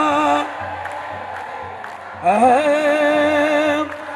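At an annual Ethiopian Orthodox saint's festival for Abune Tekle Haymanot, a crowd breaks into loud, warbling ululation partway through, the high trilling voices rising over a steady murmur of chanting and lasting more than a second.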